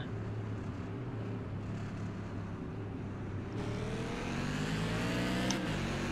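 Modified race cars in an iRacing NASCAR Tour Modified Series race drone steadily in a pack, then the engines swell louder as the field accelerates, with layered overlapping motor tones.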